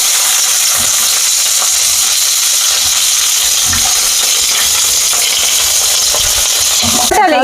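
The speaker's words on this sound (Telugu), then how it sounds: "ఒక 1/2 స్పూన్ నూనె పోసుకుందాము, చాలు. ఇంక ఇప్పుడు ఈ టమాటాలు అన్నమాట, 1కి 3 టమాటాలు ఫ్రై చేసుకుందాము." Tomatoes frying in half a spoon of oil for an Andhra-style black gram chutney, a steady close sizzle with scattered crackles and stirring scrapes throughout, no talk.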